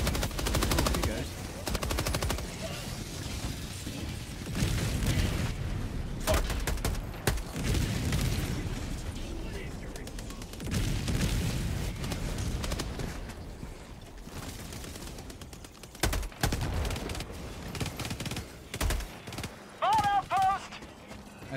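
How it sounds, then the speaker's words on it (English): An orbital strike in a video game sets off dense, rapid bursts of gunfire and heavy booming impacts that go on almost without a break, with voices partly buried under the noise. "let's watch this orbital strike happen"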